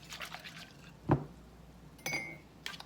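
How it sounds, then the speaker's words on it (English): Cold water is poured into dissolved jello mix, giving a quiet close splash and a few faint liquid trickles and drips with pauses between them. "you'll go ahead now and add your other 1/2 cup of water"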